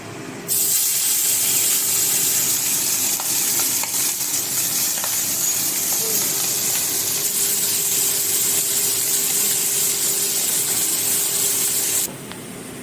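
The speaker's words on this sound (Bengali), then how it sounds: "এবার আমি মাছগুলোকে ভেজে নেব" Pomfret fish frying in a pan, a steady, loud broadband sizzle and hiss that runs unbroken for about twelve seconds before cutting off abruptly.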